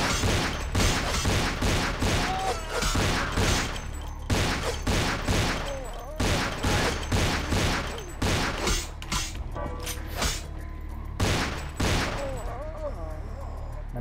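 Rapid volleys of Glock pistol fire in Vampire the Masquerade Bloodlines, loud close shots cracking in quick repeated bursts with brief gaps, mixed with other game combat sounds.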